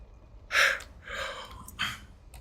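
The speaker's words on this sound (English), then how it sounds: "And another yawn, my God." A person yawns in three breathy bursts: a loud, drawn-out inhale, then a softer sustained exhale and a short final gust, close and alone with no talk.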